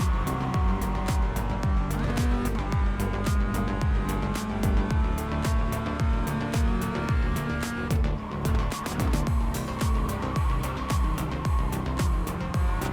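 Race car engines at Tsukuba in iRacing roar loudly and steadily, the near car's pitch climbing and dropping repeatedly through gear changes and corners, with no talking.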